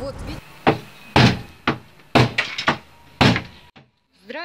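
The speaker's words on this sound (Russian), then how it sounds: "Осенью в ее дверь также настойчиво постучали." Insistent knocking on an apartment door: loud, heavy thuds in irregular clusters, close by, followed by a brief voice at the end.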